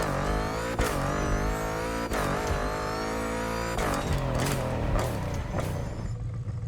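Swapped car engine in The Crew Motorfest revving hard and continuously, rising and falling in pitch with sharp gear-change breaks and pops, loud and close throughout.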